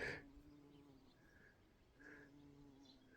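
Bees buzzing from a beehive in a large garden on a family farm, a faint steady drone with a brief louder swell at the start and another around two seconds in.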